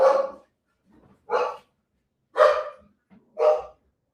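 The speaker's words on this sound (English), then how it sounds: "Now my dogs are barking and there's nothing out there." Dogs barking outdoors at night, four separate loud barks spaced about a second apart, with quiet pauses between them and no talking.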